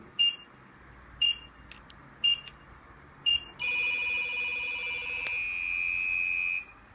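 Phone call signal triggering an airsoft bomb module: four short electronic beeps, then a steady, loud, high tone held for about three seconds.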